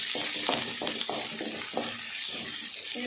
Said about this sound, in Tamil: இது நல்லா வணக்கிடுங்க.